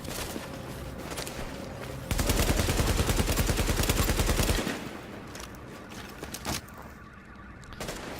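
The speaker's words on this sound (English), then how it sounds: "I really like the Black Market AK because it's super stable, and I mean you can see by me using it how strong the kick is" Black Market AK assault rifle in The Division firing a sustained full-auto burst of rapid, loud, evenly spaced shots for a couple of seconds, surrounded by quieter game ambience with a few scattered sounds afterward.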